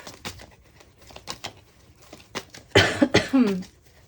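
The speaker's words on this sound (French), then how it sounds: "Pardon, excusez-moi, je tousse." A few sharp coughs close to the microphone, preceded by quieter breathy throat sounds and small noises.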